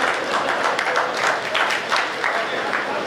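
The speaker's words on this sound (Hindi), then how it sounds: "तालियां गलत जगह बजाते हो आप" Dense, sustained applause from a large comedy show audience, steady and loud throughout.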